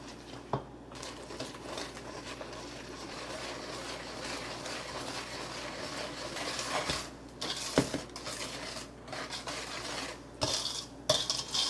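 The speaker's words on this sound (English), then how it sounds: "I'm going to go ahead and whisk this all together until it is thoroughly combined" A whisk stirs granola ingredients and cinnamon together in a bowl, giving continuous scraping and light clinking against the sides, with a few louder knocks near the end; nobody speaks.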